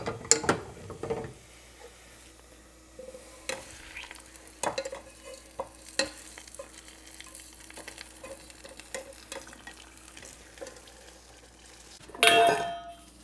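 Garlic pieces frying in oil make a soft sizzle under intermittent clanks and scrapes from stirring, closing with a louder burst of clatter near the end.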